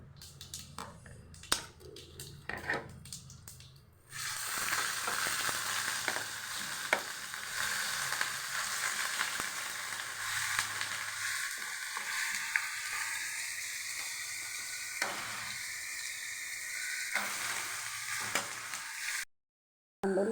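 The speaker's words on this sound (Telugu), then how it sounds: "ఇప్పుడు ఉల్లిపాయ పేస్ట్ వేసేద్దామండి." Scattered clicks and taps give way to a sudden surge of sizzling as onion paste hits hot oil with green chillies, a steady frying hiss with occasional spatter that cuts off abruptly near the end.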